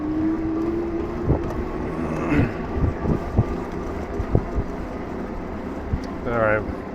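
AMYET G60 moped-style e-bike ridden on throttle in pedal assist level 1: a low motor hum and tire rumble under steady wind noise, with scattered thumps and clicks from the ride.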